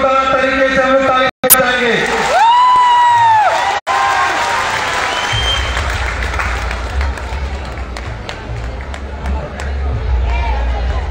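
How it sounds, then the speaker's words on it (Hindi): Large outdoor crowd at a political rally on the Regal Maidan ground in Jamshedpur claps and cheers loudly and continuously, a dense roar of applause and voices, with whistles and chatter rising over it. "इनके लिए एक बार जोरदार तरीके से हम लोग ताली बजाएंगे।"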